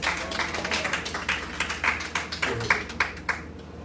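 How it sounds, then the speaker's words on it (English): A church congregation claps hands during a service, a fairly faint, uneven patter of individual claps in loose rhythm, with a low hum underneath. "Clap your hands and say yes, sir."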